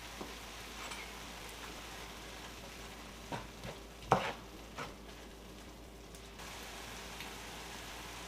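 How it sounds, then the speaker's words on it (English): Ground beef browning in a pan for a quick spaghetti meat sauce gives a faint, steady sizzle, with a few brief clinks and scrapes of stirring partway through and no talking. "This meat is almost done browning."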